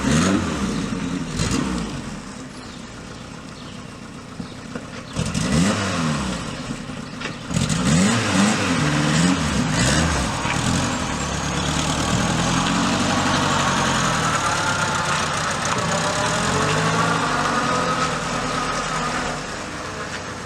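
A Volkswagen Mk1 Jetta engine runs steadily while the car reverses, a continuous low mechanical drone with slight rises in pitch and a dusty, outdoor rattle over about twenty seconds.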